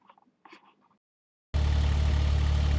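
A hired 1.7 ton Kubota mini excavator's diesel engine starts up suddenly after a few quiet clunks, then runs loud and steady with a heavy low drone, close by with no talk.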